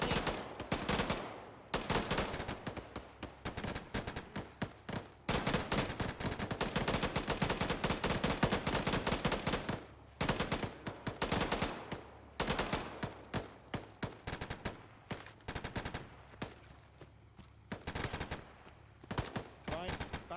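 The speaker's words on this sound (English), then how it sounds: "People are shooting, I don't want to move." Sustained bursts of machine gun and rifle fire crack out close and loud during a mechanised infantry live-fire combat drill, dense rattling volleys with brief gaps between them, no talk over the shooting.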